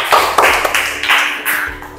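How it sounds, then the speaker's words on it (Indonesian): Students clapping for a presenting group in a classroom, a short burst of irregular, fairly close handclaps for about two seconds, uneven and somewhat loose rather than a full ovation. "Tepuk tangan dulu untuk kelompok 3."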